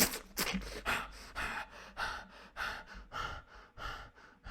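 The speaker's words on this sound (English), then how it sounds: "Panting." Heavy, ragged panting from a man after a knife attack, quick gasping breaths repeating steadily and close up with no other sound.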